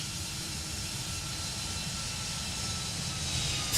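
Jet engines of a Toliss A320 NEO airliner in X-Plane 12 roar steadily during the climb after takeoff, a continuous broadband rumble with no talk, swelling slightly at the end.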